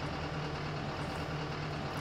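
A new excavator engine in Farming Simulator 19 runs steadily, a continuous droning idle with a low hum and broad mechanical noise at constant loudness, heard close and alone.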